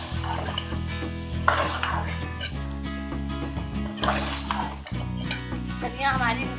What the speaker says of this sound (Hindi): कीमे में अच्छे से इन दोनों चीज़ों को भी मिक्स कर लेंगे